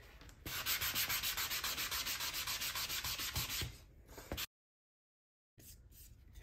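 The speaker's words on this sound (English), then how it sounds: "I'm going to sand up these back side of these pieces." Sandpaper rubs in quick, even back-and-forth strokes over the back of small stained wooden pieces for a herringbone tray, close and steady for about four seconds, then stops, followed by a short silence and faint handling.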